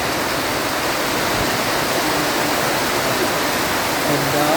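A continuous, loud rush of flowing rainwater fills the scene, steady and broadband like a nearby waterfall or stream.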